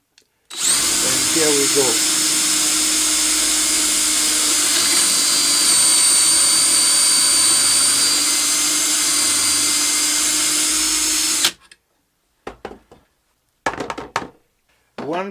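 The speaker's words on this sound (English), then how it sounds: "We don't start the drill until the point of the drill bit is on the board." A power drill fitted with a bit bores dowel holes in a wooden board through a dowel jig, whining loudly and steadily for about eleven seconds before stopping. A voice speaks briefly before it starts, and clatter and handling noises follow.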